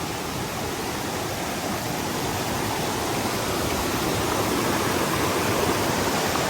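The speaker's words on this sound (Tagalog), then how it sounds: "Yun, yung waterfalls doon" A waterfall at the La Vie adventure trails, beside a wooded bank, sends out a steady, loud, broadband rush of falling water that holds constant throughout with no break.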